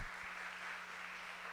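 A church youth group audience at a retreat applauds together, producing a soft, steady wash of clapping that sounds distant and stays even throughout without any talk.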